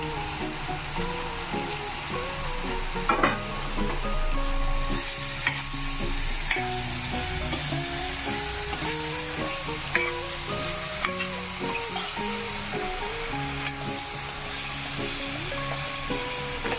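Three thinly sliced tomatoes and three dried red chillies cook in a pan with a steady, close sizzle, while background music plays throughout.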